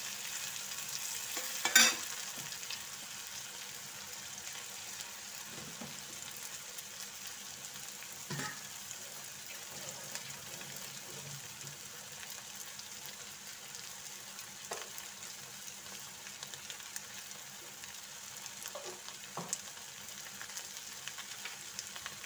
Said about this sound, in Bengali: অল্প অল্প করে ভেজে নেবো